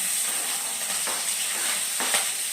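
Steady oil sizzling and crackling close by as small onions and curry leaves fry, a continuous hiss with a few brief pops, no voices.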